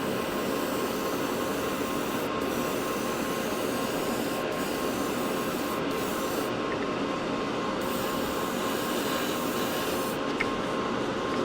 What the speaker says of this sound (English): So it push down, blow air on it to blow it off